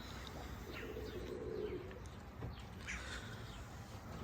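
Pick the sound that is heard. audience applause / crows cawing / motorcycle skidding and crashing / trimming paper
crows cawing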